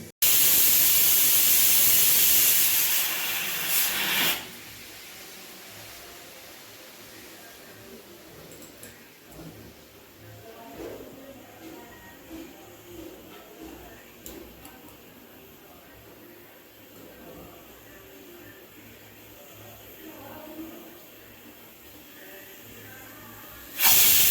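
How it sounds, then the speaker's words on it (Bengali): Pressure cooker boiling dal with lentils releases loud hissing bursts of steam at the start and end, with quieter bubbling and rattling between. "এখন আমি এটা প্রেসার কুকারে 4টা সিটি দিয়ে নিব, সিদ্ধ করে নিব।"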